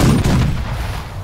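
Heavy ship guns fire in The Last Leviathan video game, a loud, deep boom that rolls out and fades over about a second.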